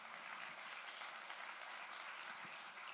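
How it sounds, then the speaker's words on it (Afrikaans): A church congregation claps together during a Sunday morning service, a steady dense wash of applause at even volume with no voices over it. "Kan ons net vir die Here net nog 'n lekker hande klap gee?"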